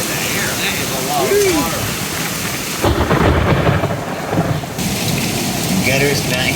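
Thunder rolls through a heavy rain and hailstorm, a dense steady roar of water with a loud burst in the middle, while people chat now and then over it.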